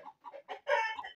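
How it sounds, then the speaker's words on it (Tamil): Frightened chickens clucking and squawking up close: a quick run of short, agitated clucks followed by one louder, longer squawk, with no other sounds. "இங்க ஒரு கோழி எல்லாம் பயந்துட்டு கத்துது."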